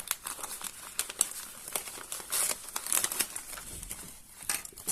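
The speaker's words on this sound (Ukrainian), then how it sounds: "я розпаковую слідуючий подарунок" Crinkling wrapping paper rustles in close, irregular bursts as a Christmas gift is unpacked, with louder crackly patches between quieter handling sounds and no talk.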